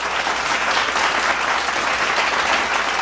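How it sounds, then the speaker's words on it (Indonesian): A crowd at a talk show on digitalising rupiah money management keeps up a steady, full wash of clapping throughout, loud and even with no gaps. "Boleh tepuk tangan sekali lagi secara virtual"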